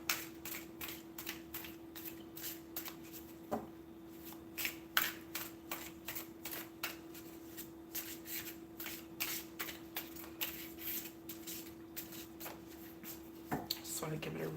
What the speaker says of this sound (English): Just want to give it a really nice shuffle just because it's brand new in the cards.